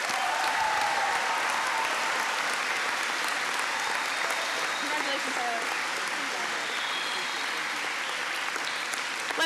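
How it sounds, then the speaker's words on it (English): A school athletic awards assembly audience claps in a long, even, sustained round of applause, dense and continuous with faint voices and cheers mixed in. "Let's give another big round of applause for all of our student athletes here."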